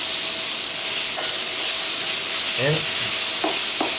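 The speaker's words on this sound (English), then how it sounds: "then put noodles into this frying pan." Pre-boiled instant yakisoba noodles sizzle and fry steadily in a hot pan, a constant hissy crackle with a few stirring scrapes and a brief word spoken.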